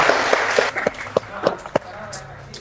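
Students in a classroom give a short round of applause, a handful of distinct sharp claps in an uneven rhythm that thins out over a couple of seconds, with some talk underneath.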